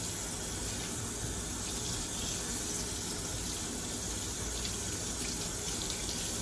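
Water pours steadily from a tap into a sink while something is rinsed, a loud, continuous close-up gush with no pauses.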